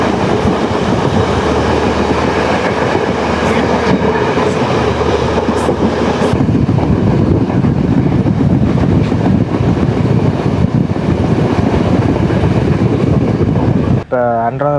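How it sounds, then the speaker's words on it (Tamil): A train rumbles into Anuradhapura station on the Colombo to Jaffna line in Sri Lanka, a loud, continuous clatter and roar from inside the carriage, with a voice talking over it near the end. "இப்போ அனுராதபுரம் ஸ்டேஷனுக்கு வந்துட்டு ட்ரெயின்"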